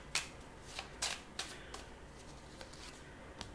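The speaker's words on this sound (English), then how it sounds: "So let's pull one of these numbers cards for June." Tarot cards are shuffled and drawn during a reading: a few crisp, papery snaps and riffles at irregular moments over a faint background hiss, with no talking.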